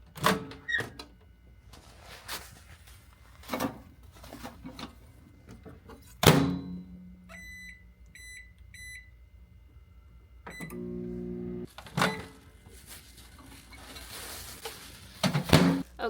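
A microwave oven heating a deep conditioning cap: door thunks and clicks, a series of beeps from the keypad, then a steady hum as it runs, with handling noises around it.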